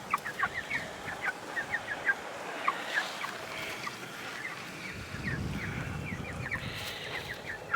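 Six chickens cluck and chatter inside a newly built chicken tractor on a homestead, with repeated short calls over steady outdoor noise and a low rumble partway through.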